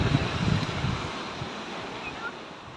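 Waves rush and break on the shore nearby, with wind buffeting the microphone and a faint voice in the background.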